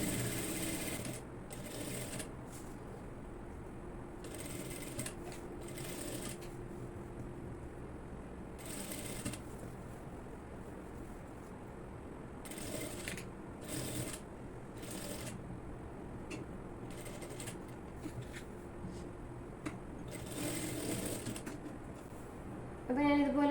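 A sewing machine stitches around the neckline of a nightie in short, repeated bursts, faint and fairly distant, with brief pauses between runs of stitching.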